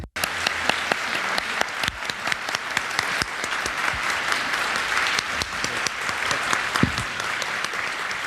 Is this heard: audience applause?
yes